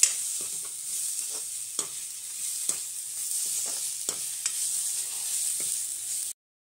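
Soft dry sizzle with repeated scraping and stirring clicks as cashews and a spice mix are tossed and roasted in a pan; quiet, no talking.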